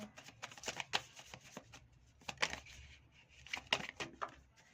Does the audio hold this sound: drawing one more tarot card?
yes